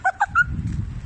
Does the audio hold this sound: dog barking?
yes